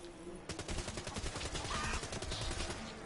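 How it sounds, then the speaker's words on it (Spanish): A chicken companion opens fire in Call of Duty Black Ops 3's Dead Ops Arcade mode: a rapid, dense burst of gunshots starts after a half-second lull and pours on steadily over busy game music and effects. "Pollo dispara"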